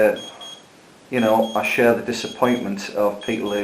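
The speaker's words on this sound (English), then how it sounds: "sorry about the beeping there, timer's going off." Repeated electronic timer beeps at a steady pitch, faint and alone at first, then continuing under a man's close speech.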